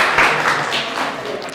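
Applause from an audience at a talk on sustainability in Mexico, a steady wash of many hands clapping at moderate level through the brief moment, with no speech over it.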